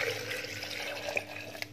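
Water pours into a large glass of fresh ginger, half a litre filling it in a steady, close trickling stream with small splashes and no voices.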